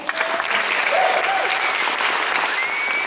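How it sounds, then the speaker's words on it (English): Steady applause from a crowd, a dense wash of clapping that holds evenly throughout. "please give them a round of applause"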